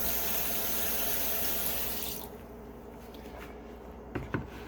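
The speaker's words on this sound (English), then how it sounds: "Actually going to add a little bit of water to this," Tap water running into a plastic container of leftover rice, a steady close hiss of flowing water that cuts off after about two seconds, leaving quiet room tone and a couple of soft knocks.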